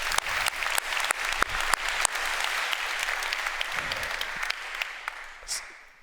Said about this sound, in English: So a huge round of applause for the organizers of the event